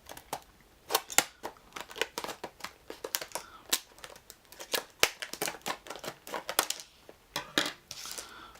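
Scissors snip repeatedly through stiff plastic toy packaging for a Star Wars: Imperial Assault figure pack in quick, irregular crisp cuts, with crinkling of the packaging between snips, close up and fairly quiet.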